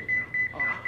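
Electronic beeper in an office-call scene from a sitcom, sounding four short high steady beeps in a quick regular rhythm, close and clear over a low murmur of room noise.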